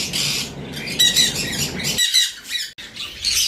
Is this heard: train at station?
no